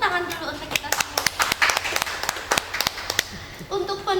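Audience hands clapping at a church-hosted podcast recording, a run of sharp separate claps that thins out toward the end, with voices talking over it at the start and close.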